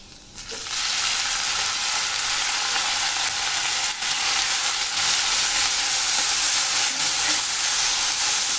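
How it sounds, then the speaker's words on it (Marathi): Chopped onion hits well-heated oil for a restaurant-style Veg Kolhapuri and sets off a loud, steady sizzle that starts abruptly and then holds as a dense, continuous hiss. "म्हणून मी जरा कांदा टाकून पाहिलं आहे. तर तेल तापलेलं आहे चांगलं"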